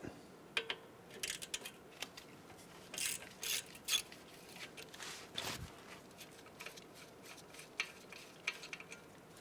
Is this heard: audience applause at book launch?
no